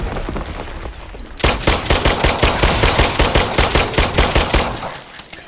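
Rapid bursts of automatic gunfire from a VR zombie shooting game crackle loudly and evenly, a steady stream of close shots starting after a quieter lead-in and stopping abruptly near the end.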